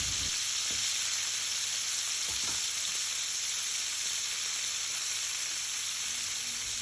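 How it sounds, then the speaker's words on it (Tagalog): Marinated chicken pieces fry in a pan until golden brown on both sides, giving a steady, even sizzle and hiss that carries on alone throughout. "Ipa-fry ko yan hanggang mag-little golden brown"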